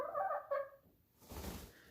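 Backyard chickens clucking close by in a short burst of harmonic calls, then a quieter stretch with faint rustling and low ambient noise; no one talks.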